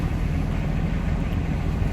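A boat engine runs steadily while cruising Halifax harbour in fog on New Year's, as a loud, constant low rumble with wind noise on the microphone and no break in the drone.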